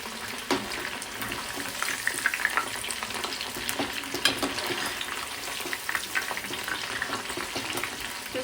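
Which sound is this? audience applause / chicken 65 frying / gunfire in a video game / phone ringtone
chicken 65 frying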